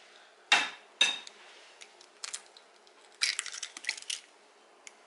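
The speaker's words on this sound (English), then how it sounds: "Okay, now we'll crack the second egg." An egg cracked for cheesecake batter: two sharp taps against a bowl rim, then a quick crackle and brittle shell clicks as it breaks open, close and clear in a quiet kitchen.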